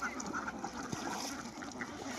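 Ducks quack and squabble in an enclosed pen on a duck farm in Chalan Beel, a faint, busy chorus of overlapping calls with a soft watery background.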